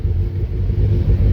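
Mazda MX-5 cars racing at a sprint event at Kames, a loud, low engine rumble heard steadily for a moment with no pause.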